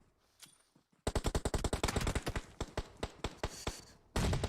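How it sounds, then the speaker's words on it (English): Gunfire in PUBG Mobile as players pre-fire windows, a rapid burst of automatic shots after a quiet start, loud and close, then a brief pause before another burst at the end. "they've been actually able to make that push in, pre-firing every single window right now"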